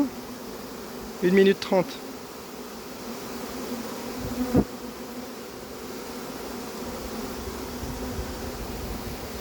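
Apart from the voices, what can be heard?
swarm of honeybees buzzing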